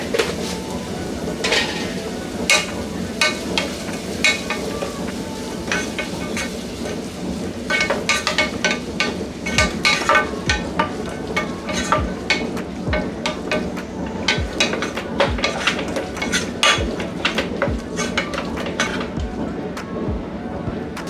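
Paneer pepper fry ingredients sizzle in a pan as salt goes in, with frequent scraping and clinking of a stirring spoon against the metal over a steady frying hiss, close and fairly loud throughout.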